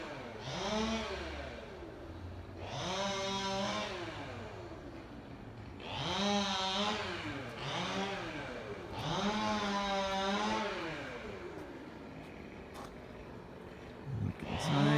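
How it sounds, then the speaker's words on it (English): A neighbor's chainsaw sounds from nearby outdoors in repeated revving bursts, each rising and falling in pitch, several times in a row with short pauses between them. "Excuse the neighbors and their chainsaw."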